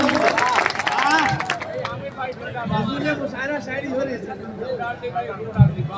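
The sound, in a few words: audience applause at a mushaira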